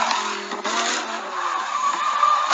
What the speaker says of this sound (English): Rip that Lamborghini.